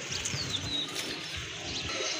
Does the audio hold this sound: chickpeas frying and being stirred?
no